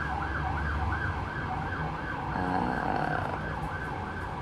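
Siren wailing outdoors, heard faint and muffled from indoors as a rising and falling tone over a steady background rumble of traffic noise.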